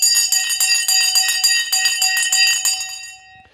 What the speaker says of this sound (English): Get ready to ring the bell.